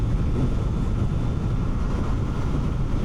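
Steady wind roar from riding a 2026 Kawasaki Z500 parallel-twin motorcycle at about 70 mph, just over 6,000 RPM, a loud, unbroken rushing buffet with no voice.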